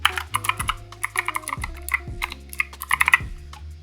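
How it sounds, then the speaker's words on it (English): Someone types on a computer keyboard while entering an email address on a website, a quick, close run of crisp key clicks in uneven bursts with no talk. "So I'm just gonna type in my email."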